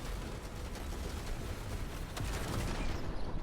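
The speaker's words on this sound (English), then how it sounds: "That tank is getting absolutely nailed." Missiles and gunfire pounding a tank during a night raid in Phantom Brigade, a dense crackling barrage of rapid impacts and bursts, loud and continuous with a few sharper blasts near the end.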